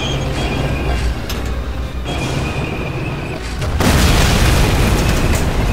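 Deep, rumbling booms from tank explosions in the World War II shooter game Medal of Honor Allied Assault, a steady heavy roar that swells louder partway through, with no talking.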